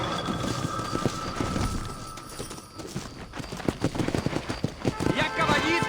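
Horse hooves clip-clop steadily on a dirt trail in the Western video game Red Dead Redemption, close and continuous beneath game voices and ambient background sound.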